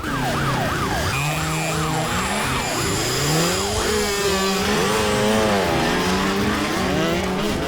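Wailing emergency siren, most likely a police vehicle on a city road in an Indian action film, rising and falling in rapid loud sweeps over steady traffic and engine noise throughout, with no voices.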